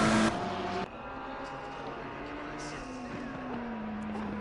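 Porsche race car in Assetto Corsa Competizione at Snetterton, its engine droning with a steady rising pitch after a brief louder burst at the start, over a constant bed of track and engine noise.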